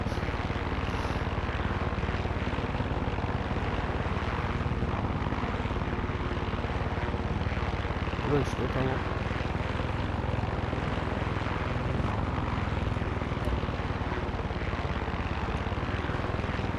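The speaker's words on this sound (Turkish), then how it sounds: "Al sana helikopter pisti. Çok da güzel indirdim ben." A helicopter in the Far Cry 6 video game flies and sets down on a helipad, its steady rotor and engine roar filling the scene continuously at close range; a voice speaks briefly over it.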